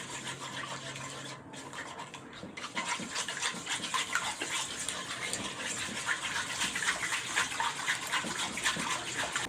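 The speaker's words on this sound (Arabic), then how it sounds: "ونضرب البيض الاول شويه كده بالمضرب السلك" Wire whisk beating eggs in a bowl, a continuous fast rhythmic clattering and sloshing, close and fairly loud, steady for the whole stretch.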